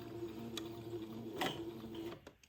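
Foot-pedal sewing machine running steadily while stitching a gathered lace band onto a bonnet brim, a continuous quiet mechanical hum with a fast even whir and a couple of brief clicks near the end.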